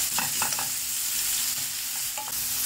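Onions fry in oil in a pan with a steady, close sizzle, broken by a few quick stirring scrapes near the start and again near the end, and no voices.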